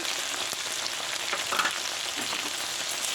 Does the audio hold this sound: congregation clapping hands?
no